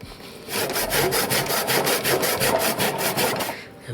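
A hand saw cuts through a small wooden stick for a guitar lining clamp, its rapid rhythmic rasping strokes loud and close, about fourteen quick strokes before stopping.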